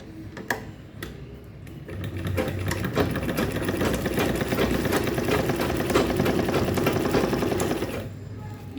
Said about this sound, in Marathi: ही अशा प्रकारे मी स्टिच करून घेते